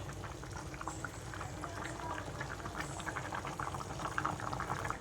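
Mung bean soup (munggo) boils in a pot, giving a steady, dense bubbling and simmering that continues unbroken and fairly close, with no voices.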